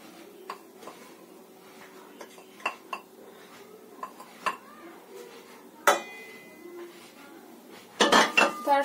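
Flour being mixed into a batter for patishapta in a bowl, with sparse clinks and taps of a utensil against the dish, then a louder clattering flurry of pots and cutlery near the end.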